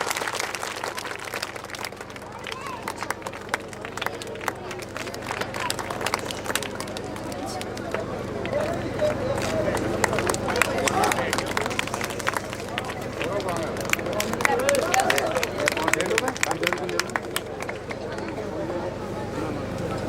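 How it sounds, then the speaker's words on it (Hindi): An audience at a village award and talent-honouring ceremony claps steadily for a long stretch. Dense, continuous crowd applause runs beneath chatter and a few raised voices. "तालियां तो बजा दो"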